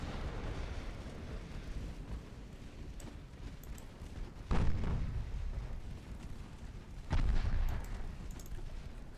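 Naval guns fire in the warship game Ultimate Admiral Dreadnoughts as two heavy booms over a constant low rumble of battle ambience, each boom followed by a brief rolling tail.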